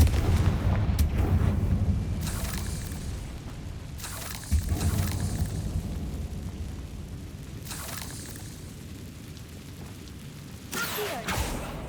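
Confringo blasting spell explosions from Hogwarts Legacy: four or five heavy booming bursts at irregular intervals over a low, rumbling game background, each one loud and broad with a short decay.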